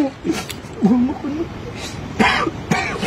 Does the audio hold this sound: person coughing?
yes